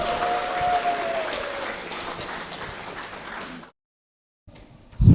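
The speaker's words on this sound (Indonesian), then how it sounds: "mari kita beri tepuk tangan yang paling meriah untuk pembicara kita pagi hari ini, Irwandi Zainuddin." Audience clapping for a morning speaker at an Indonesian event, a steady rain-like wash of applause for several seconds that fades and stops, followed by a brief low thump.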